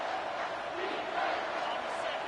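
A large football stadium crowd roars in overtime, a dense, sustained wall of cheering and shouting that swells slightly and stays loud throughout.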